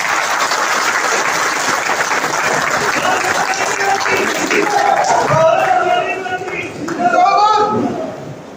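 Loud, sustained applause from a large crowd welcomes a former minister at a BJP workers' convention in Ratangarh, dense clapping throughout with voices and cheers rising over it in the latter half.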